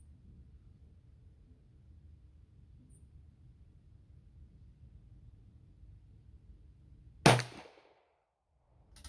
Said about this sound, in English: that's 3 shots with the #2 rolling block